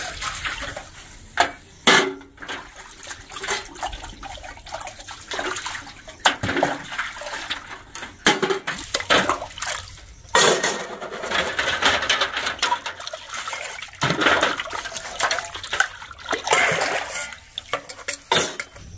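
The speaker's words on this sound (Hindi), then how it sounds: "सारा बर्तन हम धोते जाते हैं" Dishes and utensils are washed under running water by a married couple, with continuous splashing and rinsing, occasional clinks and clatters of pots and plates, close and busy throughout.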